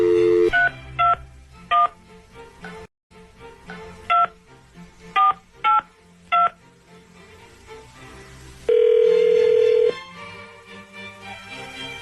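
A series of touch-tone dialing beeps, short and evenly spaced, followed by a longer steady tone, heard over faint background music.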